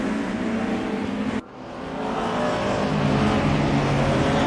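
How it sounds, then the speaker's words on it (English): Race car engines roar in a sim racing game's Tuesday Thunder online race, with a loud steady drone that briefly dips, then swells back as the engine revs climb and hold. "So they're racing again, listening to that engine note."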